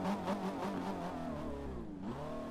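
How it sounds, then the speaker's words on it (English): Supercharged Maserati Gran Turismo S in Forza Horizon 4, its engine holding a steady revving drone with a high supercharger whine that sweeps down and climbs back, loud and close throughout with no talk. "The supercharger's giving it a funny whine."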